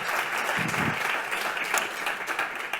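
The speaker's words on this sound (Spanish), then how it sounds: "Un aplauso para ellas." Audience applause at an educational workshop on teaching strategies for data analytics and AI, welcoming two speakers to the stage; steady, dense clapping fills the room throughout with a brief low murmur of voices early on.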